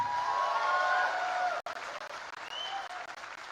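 Applause from the audience at the Bangalore Tiprasa Cultural Festival: a steady wash of crowd clapping, moderately loud and sustained, with faint voices rising over it briefly.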